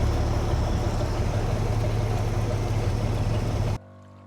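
A boat out on the water in the Sundarbans, its engine a steady close droning rumble with water wash that runs unbroken for nearly four seconds, then cuts off abruptly.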